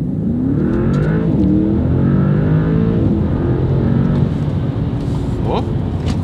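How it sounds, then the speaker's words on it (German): A Mercedes S63 AMG, a nearly three-ton luxury sedan with 1430 Nm of torque, accelerates hard from a standstill, its engine roaring and climbing through the gears from inside the cabin while people talk over it. "Wir sind jetzt gerade einfach so aus dem Stand so losgefahren."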